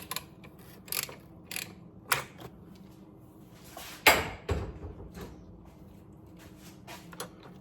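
A 6-point socket on a ratchet wrench works on a 2014 Subaru Forester during a serpentine belt replacement, giving a series of separate close clicking ratchet strokes with a louder burst midway, faint and without talk.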